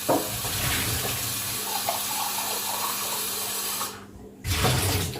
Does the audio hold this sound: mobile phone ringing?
no